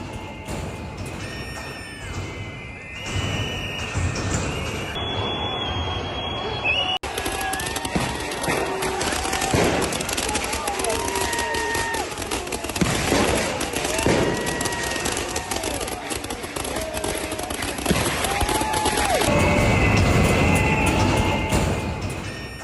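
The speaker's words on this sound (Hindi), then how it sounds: "पुलिस को निशाना बनाकर की गई आतिशबाजी।" Dense, rapid crackling bursts of fireworks fired at police during a street protest echo amid a noisy crowd, with loud popping and whistling layered over shouting, continuous for the whole stretch.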